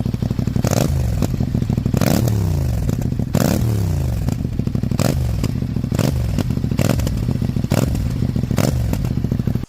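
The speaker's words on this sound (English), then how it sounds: "You cannot compare the exhaust sound of the 450NK with Z500." A motorcycle engine idles and revs repeatedly, its exhaust rising in sharp bursts and dropping back between throttle blips, loud and close throughout.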